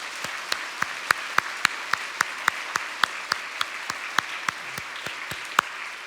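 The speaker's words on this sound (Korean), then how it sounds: "박수." A church congregation applauding at the close of a sermon, a steady wash of clapping with distinct sharp claps punctuating it at a regular, almost rhythmic pace for about six seconds.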